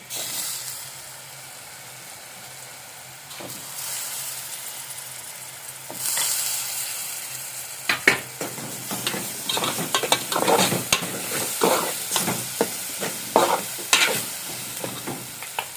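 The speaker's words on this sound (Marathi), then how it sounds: "आता टाकूया बटाटे" Potatoes go into a hot pan and fry for a cashew usal: a steady sizzle that swells when they land, then rattling scrapes and clatters of stirring grow louder and busier, with no voices.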